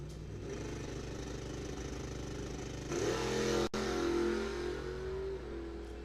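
Drag racing cars at Coles County Dragway run in elimination rounds, with an engine roar that swells near the three-second mark into a rising, revving pitch before easing off the throttle, loud and continuous.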